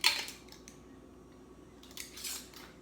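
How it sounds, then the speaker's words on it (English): Regular mason jar canning lids set onto jars, a bright metallic clink at the start followed by a few fainter taps and light scrapes, close and quiet with no talk. "we're just gonna put the lids on, regular mason jar canning lids"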